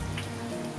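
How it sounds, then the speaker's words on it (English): Steady rain falling outside at night on a fence-building site where post holes are being dug in the dark, a continuous soft patter with no voices. "and then it started to rain"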